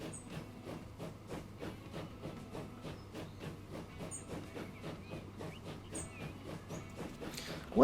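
A train rolling on rails in Transport Fever 2, giving a steady rhythmic clickety-clack with a low rumble and faint hiss, moderately quiet and unbroken for several seconds.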